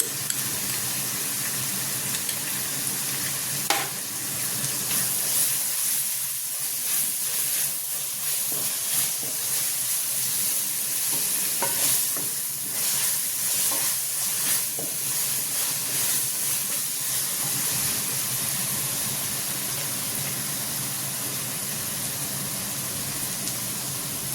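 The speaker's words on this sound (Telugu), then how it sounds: "చూడండి ఎంత బాగా వేగుతుందో." Ginger paste sizzles and fries steadily in hot oil in a pan with onions during tempering for a fish curry, a continuous close hiss with a few stirring clicks.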